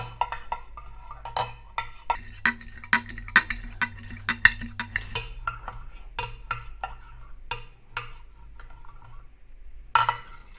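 A knife chops pork belly into small pieces on a cutting board, giving irregular sharp taps and knocks, close and clear, with short pauses between bursts of cuts.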